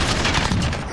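A dense, loud burst of PKM light machine gun fire in the video game Modern Warfare, rapid shots blurring into a continuous roar for about a second.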